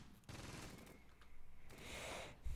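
Machine gun fire in the Close Combat wargame during the battle of Mouen, a dense fusillade of rapid bursts at moderate distance with a few heavier thumps, and no voices.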